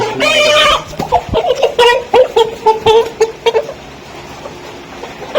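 A tiger chicken clucks loudly and up close in a series of choppy, uneven calls, then trails off into quieter background noise.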